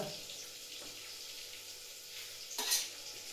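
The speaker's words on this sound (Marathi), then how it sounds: "आता इथं बघा मला फक्त आता वड्या परतायच्या" Boiled vadi being stirred and sautéed in a pan give a soft, steady sizzle with quiet scraping, and one brief louder clatter near the end.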